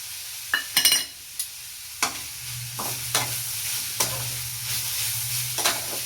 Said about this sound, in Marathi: आता आपल्याला याच्यामध्ये शेंगदाण्याचा कुट्टा टाकून द्यायचा.